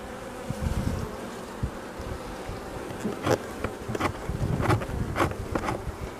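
Honeybees buzzing around a hive entrance with a reduced opening, a dense close hum of many wings with individual bees swelling louder as they fly past, continuous and without voices.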